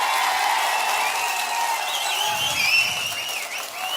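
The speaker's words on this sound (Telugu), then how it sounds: "ఆశీస్సులు ఇస్తామని గట్టిగా చప్పట్లు కొట్టి మీరంతా కూడా చేయాలి." A crowd at a political rally in Andhra Pradesh claps loudly together, a dense, sustained wash of applause with a few shrill tones rising above it near the end.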